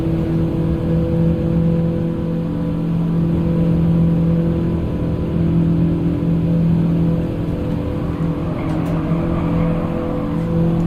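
Toyota Prius G '09 race car lapping Laguna Seca in a Gran Turismo 7 GT Cup race, its engine and motor holding a steady, loud, continuous drone with a faint whine throughout.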